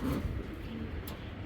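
A pigeon, a pet bird kept among fancy breeds such as the Afsan grizzle, gives a low, soft coo close by against a muffled background hum.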